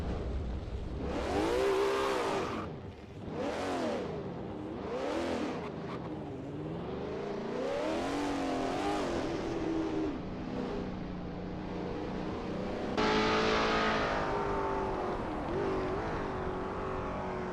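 A Lola T70 MkII Spyder race car at Sebring in a racing video game roars loud and near, its engine rising and falling through repeated revs and gear changes with no talk.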